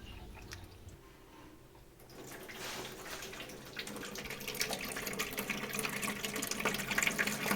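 Water being let into newly installed copper plumbing circuits in an apartment, a quiet start that builds into a rising, hissing rush of flow, growing louder toward the end, with no voices.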